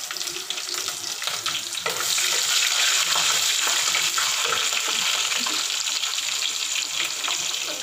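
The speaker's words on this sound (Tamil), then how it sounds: "இப்போ வந்து எல்லாம் நல்லா பொரிஞ்சிட்டு ரெண்டு காஞ்ச மிளகாய் போட்டிருக்கேன்" Dried red chillies frying in hot oil in a pan for a village-style fish gravy, a steady close sizzle and crackle that swells louder after a couple of seconds and holds, with no talk.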